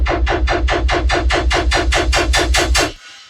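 A heavily processed fake-out chain from a tearout track, built with a convolver and spectral compression, pounds out a rapid, even train of dense, gritty hits that runs for about three seconds and then cuts off abruptly.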